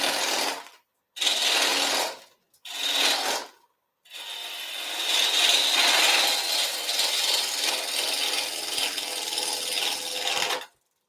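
A wood lathe turns a small piece of bur oak while the tool cuts from small to large diameter, giving three short loud bursts of rough, chattering cutting noise, then a longer sustained grinding pass, all close.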